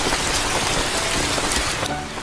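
Steady, dense rainfall pattering on surfaces, close and continuous, with no voices.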